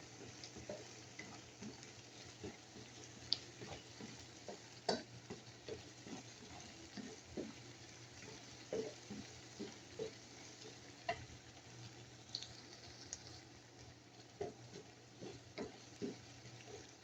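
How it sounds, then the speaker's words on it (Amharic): Onions and tomatoes fry in a pan with a steady sizzle, broken by regular stirring clicks and scrapes close by; no voices. "ሽንኩርትና ቲማቲማችን በዚህ መልኩ እየበሰለ ነው።"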